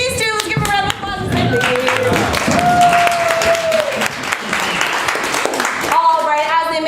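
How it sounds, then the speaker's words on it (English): Live improv comedy audience applauding two performers, a short burst of clapping mixed with a host's voice over music, fairly close and loud. "Let's give them a round of applause"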